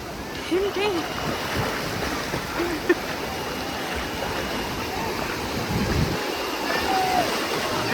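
Sea water washes in steadily at Malpe Beach in Udupi, a continuous near rush of surf with wind, and brief voices over it.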